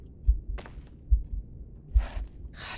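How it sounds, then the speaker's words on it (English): A heartbeat thumps in the horror game The Suicide of Rachel Foster, with low, close double beats repeating steadily and faint rustling and breath-like noises between them. "Why do I hear a heartbeat?"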